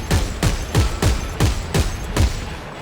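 Weapon in Dead Space 3 firing a series of heavy shots, about eight evenly spaced booming blasts with low rumbling tails, loud and close with no talk.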